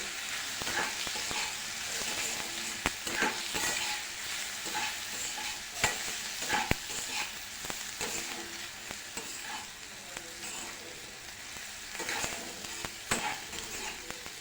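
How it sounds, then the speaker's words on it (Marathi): A spice mixture fries in oil for a sukat dish, sizzling steadily and close, with frequent spatula clinks and scrapes against the pan throughout. "त्याचबरोबर हे सर्व मसाले घालून घेऊ सर्व मिश्रण छान असं परतून घेऊ"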